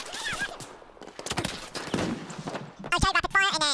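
Rapid gunfire in the Battlefield 1 video game, a dense burst of shots mixed with voices talking over the action, loudest toward the end.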